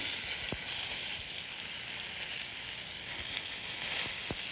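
Sweet potatoes sear in hot oil in a pan, a continuous bright sizzling hiss at close range with a couple of faint taps, and no one speaks.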